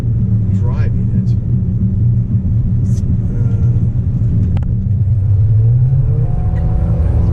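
Jaguar F-Pace SUV under way and accelerating, a steady low engine and road rumble filling the cabin throughout, rising in pitch toward the end as it picks up speed, with a person talking over it.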